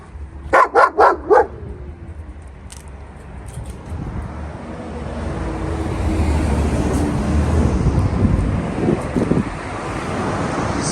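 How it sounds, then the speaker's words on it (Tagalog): Large dogs outside a church compound give a quick burst of four loud barks near the start, then a few fainter barks follow. Steady wind rumble and passing traffic noise build up afterward. "So, may malalaking aso sa labas na yan."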